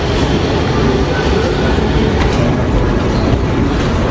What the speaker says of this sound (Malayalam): അടുത്ത മെട്രോ വന്ന് കയറാം.